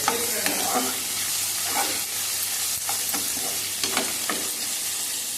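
Onions stir-fry in a pan with a steady close sizzle, broken by several scraping stirs of a spatula; no voices are heard.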